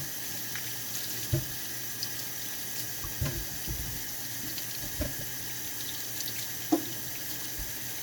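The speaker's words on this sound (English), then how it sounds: "And of course my water's running." A kitchen tap runs in a steady hiss, with occasional soft clinks and knocks from things being handled under the stream.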